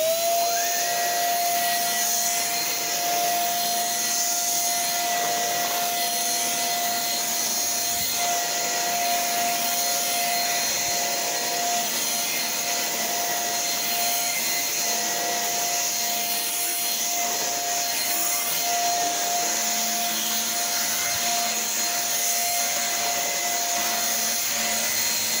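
A Shark Rotator upright vacuum cleaner runs steadily with a constant whine and airy roar, sustained and near for the whole stretch with no talk.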